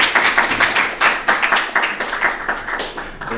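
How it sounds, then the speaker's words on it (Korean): A university colloquium audience claps to welcome a lecturer, a brisk run of many hands clapping at a moderate, fairly close level that holds steady for a few seconds. "박수로 한번 맞아주시겠습니다."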